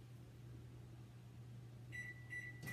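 A microwave oven hums steadily while melting chocolate almond bark, then gives a few high electronic beeps near the end, followed by a clunk as the door opens.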